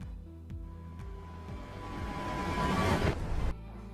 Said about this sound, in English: So in the middle of the edit, there is a riser sound effect.